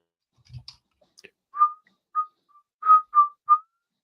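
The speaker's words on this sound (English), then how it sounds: "Whistling is the cool talent." Someone whistles a short melody of five clear, near tones in an uneven rhythm, after a couple of soft clicks and a brief low thump at the start.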